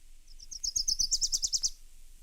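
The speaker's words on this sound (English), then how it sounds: "Wilson's warbler." A recorded Wilson's warbler gives a single bright chattering song, a run of rapid notes that starts softly, swells louder and ends abruptly, heard alone.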